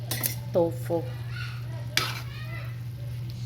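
A utensil scraping and clinking against a pan while tofu and pork are stirred, a few distinct metallic taps over a steady hum, with a person talking between the stirs.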